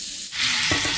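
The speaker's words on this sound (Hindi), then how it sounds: "तो आलू डाल देंगे जो हमने कट करके रखे हैं" Cut potatoes drop into hot spices in a pan, and the oil bursts into a loud, hissing sizzle. The sizzling is close, with a soft stirring scrape and no speech.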